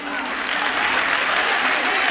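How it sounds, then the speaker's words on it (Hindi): An audience at a Hindi comic poetry gathering gives a steady burst of applause, a dense wash of many hands clapping together with faint voices mixed in. "जोरदार तालियां साथियों एक बार"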